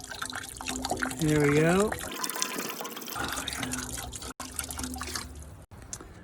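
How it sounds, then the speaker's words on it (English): Apple cider vinegar is poured into the water pan of a smoker outdoors in snowy weather, giving a brief splashing trickle partly under a man's speech. "let's throw a little apple cider vinegar in here"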